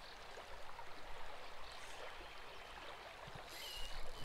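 A small stream flows steadily at a fishing bank, a constant close wash of moving water with a brighter splash or ripple near the end.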